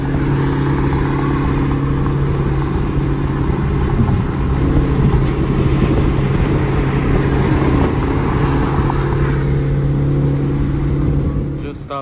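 Camaro engine running steadily while driving, a continuous low droning hum with strong harmonic tones that hold level for the whole stretch, close and fairly loud.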